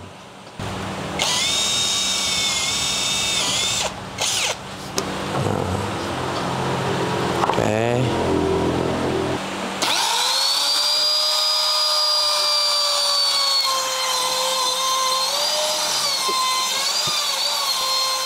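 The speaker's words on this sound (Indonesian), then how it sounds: "ini kita bor terlebih dahulu, lalu nanti kita akan buat lingkaran" A power drill whines steadily at high pitch, pausing briefly and then running again with a loud, sustained drone, its pitch shifting slightly as it bites into wood.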